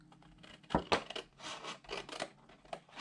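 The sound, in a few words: paper being cut straight for a paper craft box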